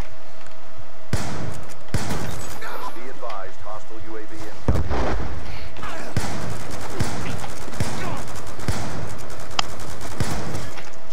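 A 12-gauge shotgun fired in a video game lets off several loud, sharp blasts with reverberant tails among other game effects, while someone talks excitedly throughout.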